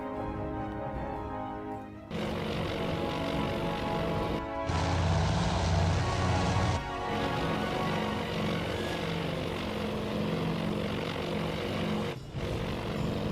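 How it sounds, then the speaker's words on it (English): Droning WWII bomber aircraft engines in the Task Force Admiral naval combat video game, a steady loud propeller roar that swells and shifts in layers and briefly dips, with no talk. "The torpedo bombers coming in?"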